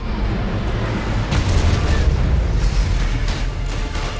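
A nuclear missile strike in the Command & Conquer: Rivals mobile game, heard as a loud, sustained, rumbling explosion roar that swells slightly and then holds steady for several seconds.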